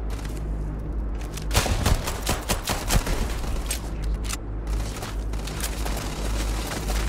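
Frag grenade explosion and gunfire in the video game Starfield: a dense fusillade of sharp shots with booming blasts around the second and third seconds, loud and close, continuing as rapid bursts over a steady low rumble.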